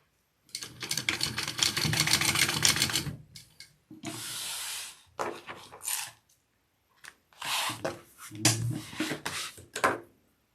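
A sewing machine stitches fabric pieces of a convertible bag in several loud, rapid running bursts separated by pauses and a few handling sounds, close by with no talk.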